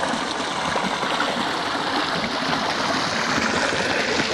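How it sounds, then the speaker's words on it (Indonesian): Small ditch-like river stream in Malaysia flowing with a steady, broad rushing and babbling, close and continuous, with no voices. "Ini adalah sungai parit, sebab dia macam parit."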